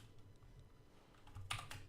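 A short burst of keystrokes on a computer keyboard as a command is typed into a Minecraft server chat: soft, faint clicks over quiet room noise, a little denser toward the end, with no talking.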